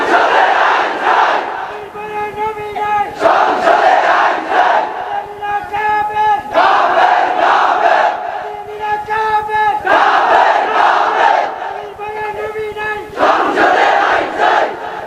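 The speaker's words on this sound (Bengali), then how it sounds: "শোনেন, এই যে তাকবীরটা দিল" A large crowd at a religious gathering shouts takbir in unison, repeated loud collective chants in waves, each call rising and falling with short gaps between, filling the space.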